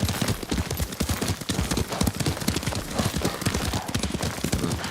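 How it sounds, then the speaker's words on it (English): Horse hooves clip-clop in a quick, steady rhythm as a rider travels on horseback in the video game Ghost of Tsushima, close and prominent with faint background layers and no talk. "Lord Sakai taught me to ride a horse"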